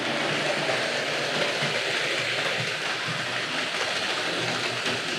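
A continuous, even rumbling whir of a Hornby Dublo model train pulling maroon suburban coaches along its track, steady from start to finish with no voices.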